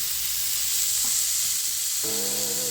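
Loud, steady sizzling of a tomahawk steak hitting a preheated skillet, a constant crackling hiss throughout with a brief clunk near the end.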